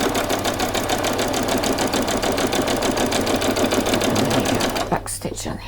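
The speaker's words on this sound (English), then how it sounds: "I'm just going to sew that straight across" Sewing machine stitching straight across the fabric of a frilled top, a steady close rapid whirring run that stops near the end, followed by brief handling sounds.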